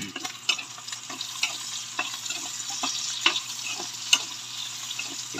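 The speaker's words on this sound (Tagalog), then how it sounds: "Ibang klase gisa." Tomato, garlic and onion sizzle and fry in a pan, with steady crackling broken by occasional sharp pops and stirring scrapes, heard close and without talk.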